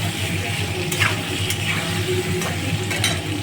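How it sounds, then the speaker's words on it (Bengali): Freshwater snails and chopped vegetables stir-fry in a generous amount of hot oil: a steady close sizzle and hiss with a few brief scraping strokes of a spatula against the pan, and no voices. "এই সবজির সাথেই ভাজা হবে,"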